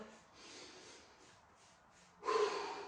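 A deep breath drawn in through the nose during a Pilates band workout, a brief sniffing inhale that swells near the end after quieter breathy sounds.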